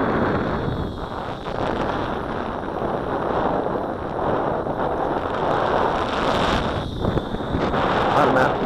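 Strong wind buffets the microphone outdoors during a Tarantula Spider 1505 drone flight, a continuous loud rushing roar with gusty surges, while someone talks over it.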